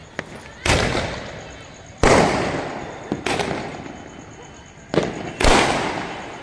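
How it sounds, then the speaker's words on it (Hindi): Firecrackers bursting around a neighbourhood on Karwa Chauth night: several sharp, loud bangs at irregular intervals, each with a crackling tail that lingers, and people talking between the blasts. "पड़ोस में बम फूट रहे हैं, पड़ोसी लोग बम हाँ, फूट रहे हैं।"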